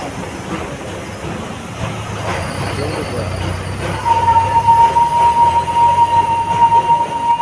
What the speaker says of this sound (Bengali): toy train